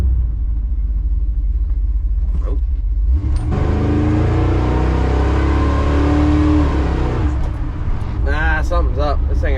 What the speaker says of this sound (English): This thing ain't running right. It's missing all kinds